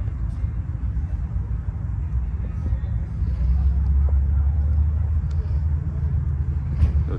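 A Dodge Ram pickup fitted with a Viper V10 engine rumbles deeply nearby at a hot rod event, a steady low engine drone that swells a little partway through, mixed with outdoor crowd noise.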